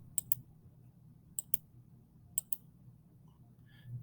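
A computer mouse clicks in quick pairs, each pair spaced about a second apart, crisp and close in an otherwise quiet room with a low hum and no speech.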